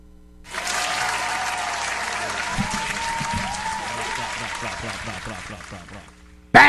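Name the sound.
clapping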